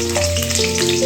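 Onions dropped into well-heated oil, a loud close burst of frying sizzle with a faint tonal hum beneath, no voice.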